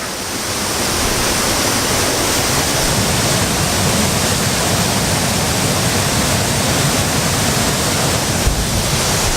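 A waterfall pours disturbed white water over rocks on a walk around The Hermitage, a dense, loud, unbroken roar filling the whole stretch from close by with no voices.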